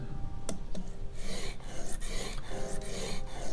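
A plane iron is rubbed back and forth on 220-grit sandpaper while its bevel is sharpened, giving close, rhythmic gritty rasping strokes roughly every half second with no talking.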